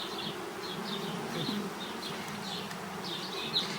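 Honey bees buzz steadily nearby, a continuous droning hum with individual insects whining past now and then.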